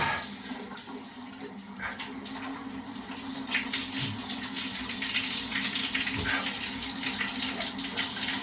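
Water streams and splashes steadily from wide shower nozzles, a constant rushing hiss with occasional drips and gurgles, fairly close.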